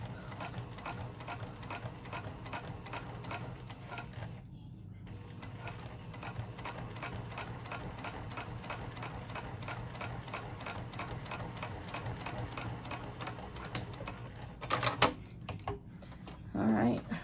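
A sewing machine stitches the lining of a zipper pouch with boxed corners, a fast steady mechanical hum and needle patter that runs on at moderate level, briefly pausing midway, with a few knocks near the end.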